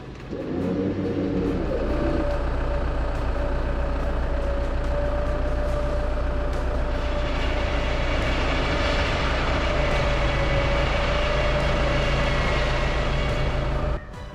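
A 4x4 truck towing a caravan winches off a tree to free itself from soft ground at a Murray River riverfront campsite. A loud, steady engine drone runs throughout, with a sustained whining tone and no talk.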